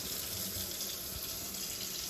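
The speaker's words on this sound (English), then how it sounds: "Make sure the water is running" Water pours steadily from an apartment kitchen sink faucet, a continuous close hiss and splash into the basin with no voices.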